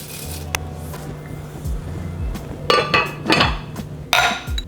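Metal pans of tofu clank and scrape as they are slid into a home oven, with several sharp clinks and rattles over a low background hum.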